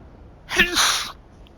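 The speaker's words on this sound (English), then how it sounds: "I'm gonna sneeze." A single sharp sneeze bursts out close and fairly loud, a short explosive burst lasting about half a second with a quick intake before it, set within a Frostpunk 2 city-builder game session.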